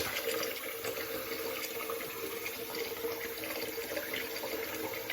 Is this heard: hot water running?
yes